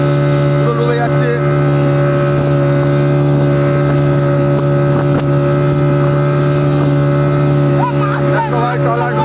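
A trawler boat sinking on the water, its engine giving a loud, steady droning hum close by throughout, with wind noise and people's voices faintly under the engine.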